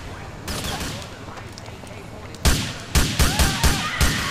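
Rocket launcher fired during a street shootout in Grand Theft Auto IV: a heavy, close blast lands midway, followed by a quick string of loud, sharp gunfire-like bursts, with no talking.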